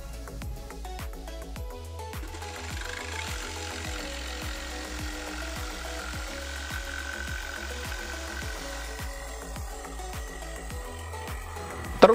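A Modern M22 cordless jigsaw cuts curves in 15 mm plywood with a loud, close buzzing rasp of rapid reciprocating strokes. It runs continuously for about ten seconds, its pitch shifting slightly as the cut bends, and there is no talking.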